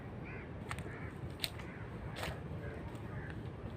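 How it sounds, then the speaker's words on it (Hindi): Crows caw repeatedly, several scattered calls at moderate distance over a constant background hiss, some overlapping, with no clear speech. "अभी इतने ज़्यादा कौवों की आवाज़ आ रही थी इधर से।"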